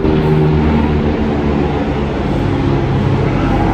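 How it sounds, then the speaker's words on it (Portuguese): An airplane passes overhead as a steady, broad, low rumble that fills the whole stretch without fading, with no one speaking. "Vocês estão ouvindo o avião?"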